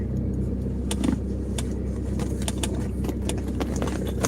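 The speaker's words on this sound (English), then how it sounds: "As you can see, I'm in my car." Inside a car on a rainy day, a steady low rumble fills the cabin while scattered soft ticks and taps, like raindrops, sound over it, with no voices.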